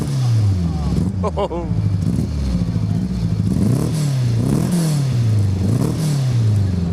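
A race car engine at Silverstone revs loudly and close in repeated rising and falling bursts after it fires up, with a brief voice exclaiming over it.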